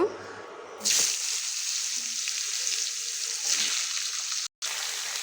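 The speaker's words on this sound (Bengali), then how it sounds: "ফোড়নটা ভাজা হয়ে গেছে, এবার সবজিগুলো দিয়ে দিব।" Vegetables including pointed gourd drop into oil already frying with black cumin and dried red chillies, setting off a sudden loud sizzle that settles into a steady close hiss with a brief surge later and a momentary cutout.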